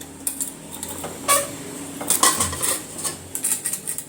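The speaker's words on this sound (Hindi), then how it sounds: "देखो अब है ना कुकर खोल रही हूँ मैं।" Metal clatter from opening a pressure cooker of mutton tahri in a home kitchen: several sharp, close clinks and knocks of lid and pot spread over a few seconds, with no voices.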